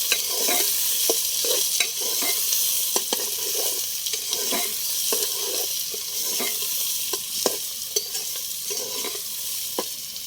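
Onions fry in a pan over a wood-fired clay stove while being stirred, a steady bright sizzle broken by repeated scraping strokes of the spoon, close and without talk.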